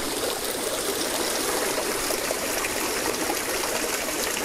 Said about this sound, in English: Just everything goes through these top tanks, and then it overflows into these big tubs underneath it.